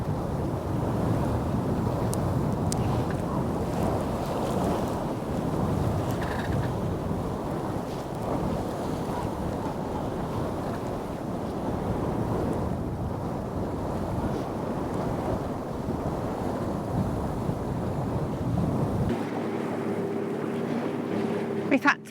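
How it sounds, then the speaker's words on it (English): Sailboat motoring under engine on the west coast of Scotland, headwind blowing, with a steady low engine drone mixed with constant wind buffeting on the microphone and water rushing along the hull. "We've had to put the engine on."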